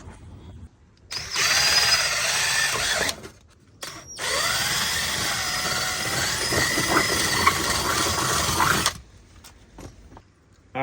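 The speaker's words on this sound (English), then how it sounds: "we're probably gonna, unfortunately, have to drill a hole right here so we have our push start." A power drill boring a hole into the body of a Kenworth T680 truck, whining loudly in two bursts (a short one, a pause, then a long sustained run) with a high pitch that wavers under load, then stopping.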